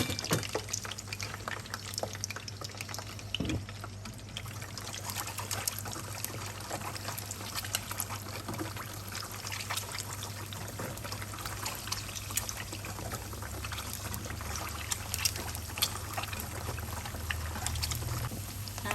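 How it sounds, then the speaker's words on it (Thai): Boiled eggs deep-frying in hot oil, a steady soft bubbling and fizzing that stays even and close throughout, with no voices. "เราจะทอดจนกว่าเขาจะเหลืองนะคะ"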